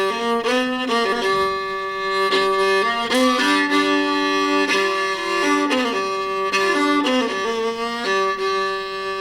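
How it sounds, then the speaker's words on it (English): Spiritual music in a praise house style, with sustained harmonic tones and shifting notes throughout at a moderate level and no speech. "you might hear a different kind of spiritual music."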